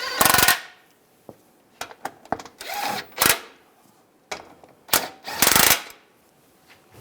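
Ratchet snugging down the accessory shield bolts on a Cadillac Escalade 6.2L V8, heard as several short, sharp clicking bursts at close range, irregularly spaced with brief pauses between them and no talking.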